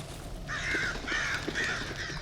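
Crows cawing in the horror game Darkwood, three drawn-out harsh caws in steady succession over a low ambient background, fairly close and without talk.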